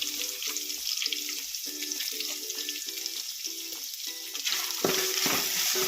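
Coconut pieces frying in a pan with fenugreek and chillies, a steady crackling sizzle over rhythmic scraping stirring strokes, with a louder burst of sizzle near the end.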